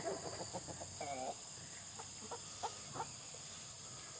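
Chickens cluck faintly in a coop, with a few short, soft calls over a steady background hum and hiss.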